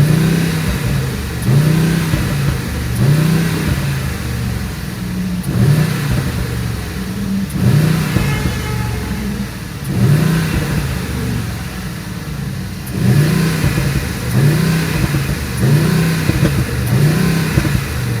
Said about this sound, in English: let's just give it a few revs.